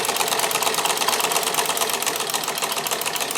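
A Necchi Supernova sewing machine fitted with an industrial straight-stitch buttonholer runs steadily, its fast, even needle clatter continuous and close throughout, with no voices.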